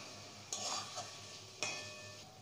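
Rohu fish kalia being flipped in a cooking pan: a soft sizzle runs throughout, with two brief scraping, stirring clatters of a utensil against the pan, quiet and close, no voices.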